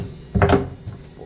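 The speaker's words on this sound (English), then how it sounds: "And the door will most certainly close." A closet door housing a newly installed 40-gallon water heater swings shut with a single short, solid thud, followed by quiet room tone.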